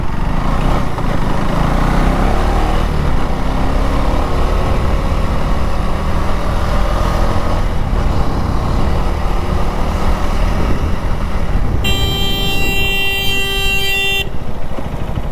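Buses and other vehicles rumble steadily along a busy city road, heard from a motorbike, with a long, loud horn blast sounding close by near the end.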